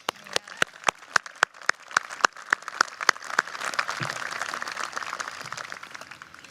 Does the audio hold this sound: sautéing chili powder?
no